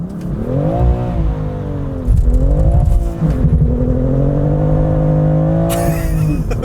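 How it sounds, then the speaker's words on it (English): BMW M2 CS doing a launch-control burnout through first and second gear, the engine loud and close as it revs hard, with a clear upshift and tire roar continuing alone. "That was a straight burnout through first and second."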